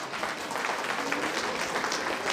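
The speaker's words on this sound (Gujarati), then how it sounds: "અબ્દુલ હમીદભાઈ, જોરદાર તાળી." Crowd applause at a community gathering after a donation is announced, a steady wash of many hands clapping, moderately loud and continuous with no voices above it.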